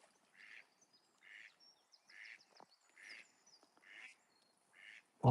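Ducks call in a quiet outdoor setting with a regular series of six fairly faint quacks spaced about a second apart, ending with a sudden close bump.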